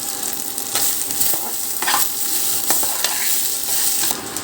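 Cumin seeds sizzling in a little oil in a pressure cooker for pulao, a loud continuous hiss and crackle with scattered pops, no voices.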